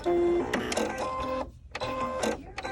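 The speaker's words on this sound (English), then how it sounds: "the machine's set to automatically raise the foot" A sewing machine set up for twin-needle sewing whirs and clicks as it raises its presser foot, giving short mechanical motor bursts with a brief pause between them, close by.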